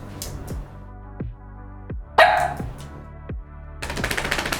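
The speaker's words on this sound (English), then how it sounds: "I just let her go just now and then she starts barking right away" A dog barks repeatedly during a Tarkov game session, a series of sharp, fairly close barks spaced about a second apart, with a burst of noisier sound mixed in and more noise near the end.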